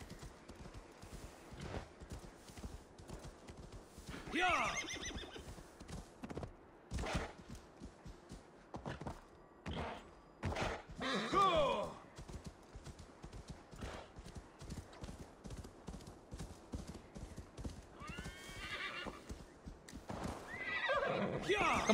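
A horse in Assassin's Creed Valhalla whinnies and neighs repeatedly over clopping hooves and scuffling, with a voice talking intermittently; bursts are loud and close.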